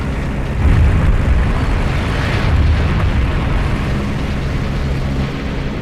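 A bomb dropped from a bomber aircraft explodes against a large, massive dam, producing a loud, sustained rumbling roar that swells early and stays dense for several seconds, with no speech over it.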